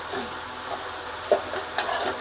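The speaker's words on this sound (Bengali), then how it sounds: "দেখো এখন পেঁয়াজ লঙ্কাটা ভাজা হয়ে গেছে" Onions and chillies frying in a pan for egg chowmein, a soft close sizzle broken by a few sharp scrapes and clinks of a utensil against the pan.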